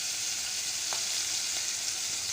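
Loud, even sizzle of bahu fish pieces frying in hot oil in a kadai, a bright continuous hiss with a couple of soft pops, heard up close with no talking.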